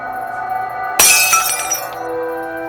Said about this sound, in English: I heard glass shattering.